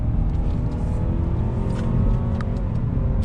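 A 2019 Mazda 3 hatch pushed hard into a corner gives a steady, loud interior engine drone with road rumble, holding an even pitch throughout with no talking.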